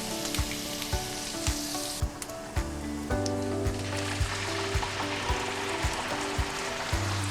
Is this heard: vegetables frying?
yes